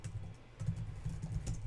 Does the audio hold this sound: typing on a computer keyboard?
yes